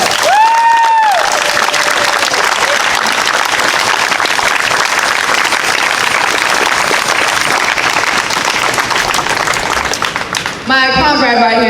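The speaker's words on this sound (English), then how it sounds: "Clap it all the way the fuck up." A large crowd at a street protest march in Richmond, Virginia claps steadily and loudly for several seconds, with a few cheers mixed in, before the applause cuts off near the end.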